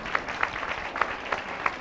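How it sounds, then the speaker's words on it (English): An audience applauds a presenter at a college business entrepreneurial challenge, a brief, moderately loud burst of clapping with a few sharper, distinct claps standing out, and no voices. "let's give Brian a round of applause"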